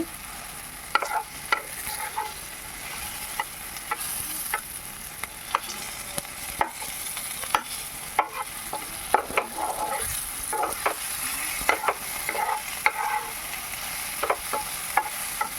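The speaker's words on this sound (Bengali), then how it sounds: "পেঁয়াজটা ভালো করেই ভাজতে হবে।" Continuous sizzle of onions frying in a pan, punctuated by frequent sharp scrapes and clacks of a spatula stirring, close and fairly loud, no voices.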